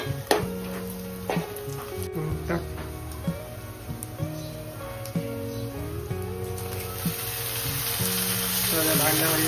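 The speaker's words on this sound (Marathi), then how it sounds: "भांड्यामध्ये बिरडा टाकून त्याला फ्राय करतो." Field beans (birda) fry in a pot with a soft sizzle under sparse metallic scrapes and clinks of stirring, while a background voice talks throughout.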